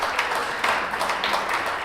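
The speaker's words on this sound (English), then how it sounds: "So I want you to give a very warm round of applause to Dr. Bam" Applause from an audience at an academic talk on Nigeria–South Africa relations, a brief steady wash of clapping hands in a hall.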